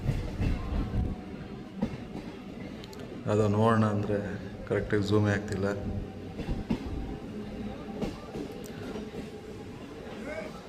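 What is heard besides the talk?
train passing, arrived from Arasikere going to Vijayapura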